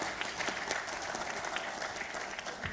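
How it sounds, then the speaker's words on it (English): Faint, distant applause from a business networking talk show audience, a continuous patter of clapping with no pauses. "A big round of applause for Sanjana, guys."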